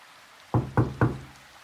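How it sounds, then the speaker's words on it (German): Three crisp knocks on a door in a quick, even rhythm, close and clear against a quiet background, used as a sound effect in a children's story. "hörte sie ein Klopfen."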